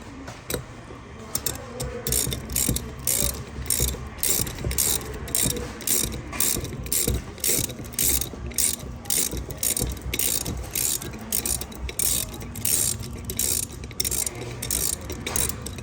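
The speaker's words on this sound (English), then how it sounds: "we're going to loosen our stem nut and take it all the way off" Hand ratchet loosening a 15/16 valve stem nut on a Flo-Tite Tri-Pro series valve, a steady run of quick metallic clicks repeating close up throughout, with no talking.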